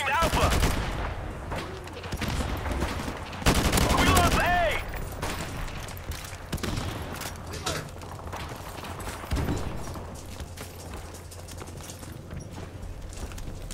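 Rapid bursts of AK rifle fire in Call of Duty 4 Remastered, loud close cracks in short strings, with a player talking over the shots and scattered movement noise between.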